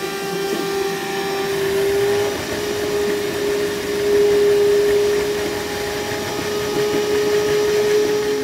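A Hercules cordless wet/dry vacuum running on a fully charged 5 amp-hour battery with its HEPA filter removed, giving a steady, loud motor whine with a constant drone throughout.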